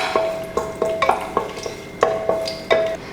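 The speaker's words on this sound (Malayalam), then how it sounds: "ഇനി നമുക്ക് ഇതിനകത്തോട്ട് കറുവപ്പട്ട, ഏലക്ക, ഗ്രാമ്പു ഇത് 3 ഇട്ടിട്ട് നന്നായിട്ടൊന്ന് വഴറ്റി കൊടുക്കാം." Cinnamon, cardamom and cloves sizzle in hot coconut oil in a pressure cooker, with a spoon scraping and knocking against the metal in quick irregular strokes, close and loud over a steady fry.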